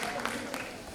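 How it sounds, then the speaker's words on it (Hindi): Applause from an audience at an anniversary celebration event fills the space as a dense, fairly distant wash of clapping, with a voice over it. "जोरदार तालियों से हम चाहेंगे आप"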